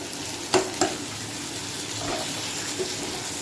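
Spice paste fries in a pan for a Bengali aloo posto, a soft steady sizzle broken by two sharp spatula knocks early on and light stirring scrapes later, with no talking.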